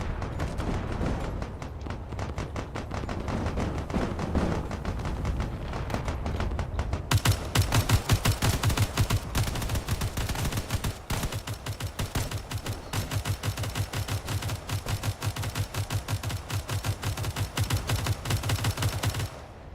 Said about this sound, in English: That destroyer cannon is very busy trying to take out this guy before he gets too close.